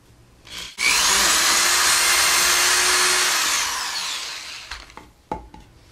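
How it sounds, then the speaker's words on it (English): A power drill whines loudly for a few seconds as it bores holes in a wall for anchors, then winds down, followed by a few clicks and knocks. "I'm just going to drill through these."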